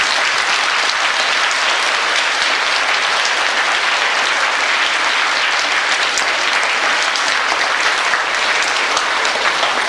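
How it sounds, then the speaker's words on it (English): A full round of applause at a school reunion event, dense and loud, steady hand-clapping from a large audience sustained throughout without any speech. "So let's welcome them with a round of applause."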